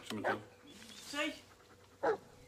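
Dog panting in the Blair Witch video game, heard in short breathy bursts near the start, middle and end, with game voices and talk around it.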